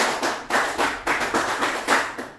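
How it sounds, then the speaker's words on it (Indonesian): A class performs the single Scout clap (tepuk pramuka), a quick run of about seven or eight sharp, evenly spaced hand claps in a brisk rhythm, close and clear, with no voices over them. "Satu kali tepuk pramuka."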